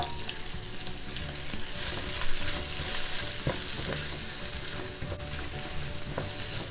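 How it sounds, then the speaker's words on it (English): Carrots fry in about two tablespoons of oil for Chinese spring rolls, giving a steady, close hiss and crackle with faint stirring scrapes and no talking. "Then add more oil, about 2 tablespoons. Add your carrots."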